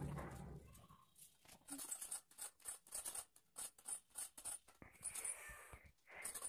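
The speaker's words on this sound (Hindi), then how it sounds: "तो इसको थोड़ा सा घिस के फ्लैट कर लेते हैं आगे से।" Hand file rasping across the end of a brass cartridge case to flatten it for a keychain, a run of quick, close scraping strokes in steady rhythm with short pauses between them.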